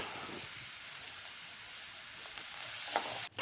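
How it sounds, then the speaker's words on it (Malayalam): Beans sautéed with finely chopped onion, ginger and green chilies in a pan for a vegetable kurma, a quiet, steady close sizzle with a few faint stirring scrapes near the end, no talk. "ഇപ്പോൾ ഈ ഉള്ളിയുടെ കൂടെ ചേർത്ത് ഒന്ന് വാട്ടി വഴറ്റിയെടുക്കുകയാണ് ചെയ്യുന്നത്"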